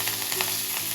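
Curry leaves dropped into hot oil for a tempering with mustard seeds, cumin and dried red chillies, giving a dense, steady crackling sizzle, close and unbroken for a brief moment.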